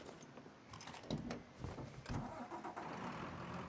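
In the video game Mafia 3, a truck engine starts up and then settles into a steady mid-pitched idle, close and moderately loud.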